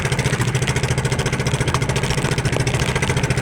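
A loud, uneven engine with clogged carburetors chugs nearby with a rapid, lumpy pulse, sputtering and clattering rather than running smoothly.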